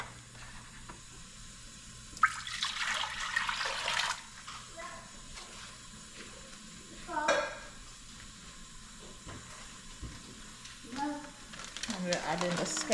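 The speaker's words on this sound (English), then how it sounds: "And we'll add some water to the peas." Water is poured into peas cooking in a hot pot for rice and peas, giving bursts of loud sizzling and bubbling against a steady kitchen hum, with quieter stirring between the surges.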